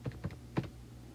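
Calculator buttons are pressed while working out a trigonometry problem: three soft, close taps in quick succession, then quiet.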